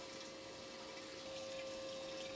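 Steady broadband rush of water flowing through a model river channel as it overtops and begins reshaping its course, continuous and close with a faint constant hum underneath.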